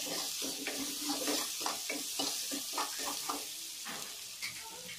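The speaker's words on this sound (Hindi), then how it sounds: "इन सभी को एक साथ में हम फ्राई कर लेंगे पहले भून के।" Home-ground spices including cumin powder frying in a pan for stuffed capsicum (bharwa shimla mirch), with a steady close sizzle and repeated scraping stirs throughout.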